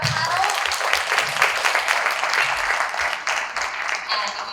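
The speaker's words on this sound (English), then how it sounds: "a round of applause for our panel" Conference audience applauding a health panel discussion, loud sustained clapping from a large crowd filling the room evenly, with a few voices faintly mixed in.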